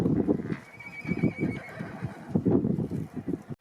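Horses at an open horse-and-bull race during the Tukai Mata temple fair at Mamdapur near Yeola, Nashik, give repeated loud whinnies and snorts in bursts, close by, with hoof clatter underneath.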